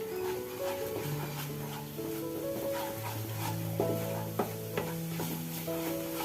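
Spice paste stir-fried in a pan with a splash of water for a raw banana kofta curry: a soft, steady sizzle with scraping spatula strokes and a few sharp taps, under continuous background music.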